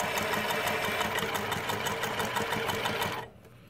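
A New Tech GC-20U83 zig zag lockstitch industrial sewing machine stitches at speed, a close, fast, rhythmic mechanical clatter over a motor hum that stops abruptly just before the end.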